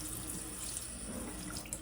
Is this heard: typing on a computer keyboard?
no